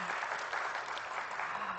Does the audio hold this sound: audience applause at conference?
yes